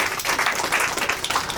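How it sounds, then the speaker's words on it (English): Audience applause fills a small talk venue, a dense steady patter of many hands clapping close by for about a second and a half with no break. "Clap for Alexander."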